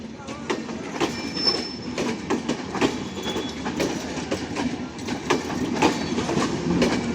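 A passenger train crowded with people riding on its roof rolls past close by, with a steady rumbling clatter of wheels on rails, repeated sharp knocks and thin high wheel squeals throughout.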